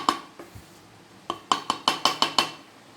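Metal spoon clinking against a pot while mutton keema biryani is mixed, a few scattered knocks and then a quick burst of bright ringing taps close by, with no voices.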